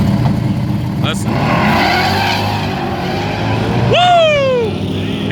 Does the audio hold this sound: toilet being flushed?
no